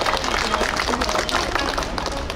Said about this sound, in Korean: 행사의 시작을 힘차게 열어주신 광개토 사물놀이 예술단 단원들에게 큰 박수 부탁드립니다